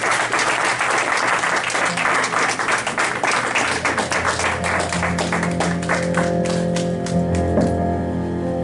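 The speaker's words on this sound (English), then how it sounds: "Let's all give him a round of applause." Loud, dense audience applause fills a church or hall after a guest is introduced, many hands clapping continuously for several seconds before thinning out, close and sustained with no talking over it.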